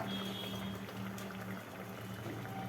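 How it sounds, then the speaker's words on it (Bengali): Lentil dal with bottle gourd bubbling in a pot, a low steady burble with faint hiss, quiet and continuous at close range without speech. "এবার ডালটা ঢেলে দেওয়া হলো বাস এবার ফুটবে"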